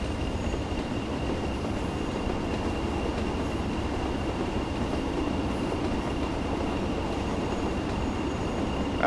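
Steady, loud rumble of a train riding the rails while braking, with a faint high squeal from the wheels running through continuous grinding wheel-on-rail noise, no voices.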